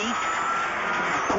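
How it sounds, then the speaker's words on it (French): A Subaru Impreza rally car runs a special stage at a European championship rally, its engine a steady rasping roar at moderate distance for just over a second. "C'est KG Tazovzik avec sa Subaru Impreza."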